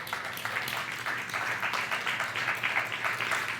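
Steady, faint applause fills a church worship service, a continuous even patter of clapping from a congregation with no break or clear rhythm.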